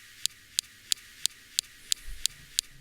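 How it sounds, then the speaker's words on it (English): The Mars rover's SuperCam laser zapping rocks gives a series of eight sharp, evenly spaced clicks over quiet background hiss, faint and alone. "Next, we have the SuperCam laser zapping rocks."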